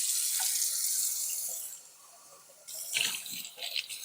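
Warm water runs from a kitchen tap for bread dough, a steady close rushing stream that stops briefly, then resumes with uneven splashing.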